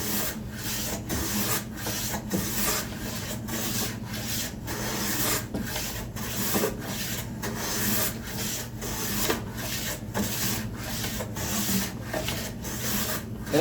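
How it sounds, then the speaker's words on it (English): A hand scraper takes fine shavings off a wooden spice rack during final cleanup, producing a steady rhythmic series of rasping strokes, about one or two each second, close by. "I'll come back through with a scraper just to give everything a uniform shape"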